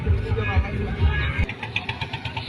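A trawler boat engine on a river chugs with a low, throbbing rumble that fades as it turns away, with people talking over it.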